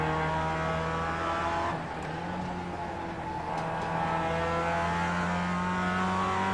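Mazda MX-5 race car engine in the iRacing video game, droning at a steady high pitch with a brief dip in revs before climbing back, loud and continuous with no speech.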